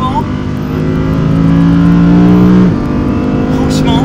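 An Audi R8 GT with a V10 engine accelerating hard, a loud steady climbing engine note from inside the car that drops off abruptly near the end, with a voice speaking faintly underneath.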